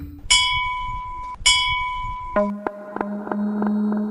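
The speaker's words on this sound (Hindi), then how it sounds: "मंदिर की घंटी अपने आप हिल रही थी" Two clear temple bell strikes ring out and decay, followed by a quicker run of lower metallic clangs with a sustained ringing tone, close and fairly loud.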